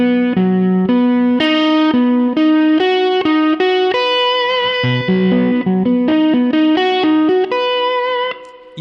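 A slide guitar plays a picking exercise in one position, with thumb, index and middle fingers moving across the strings. The notes come as a bright, steady stream of loud, ringing single tones, heavy with effects, with no talk.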